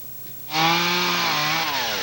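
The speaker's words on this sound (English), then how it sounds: "The sound of chainsaws could be heard across the region today, cutting trees." A chainsaw revs up sharply after a quiet moment to cut fallen trees after Hurricane Isabel, holding a loud, buzzing snarl whose pitch dips slightly as it bites into wood.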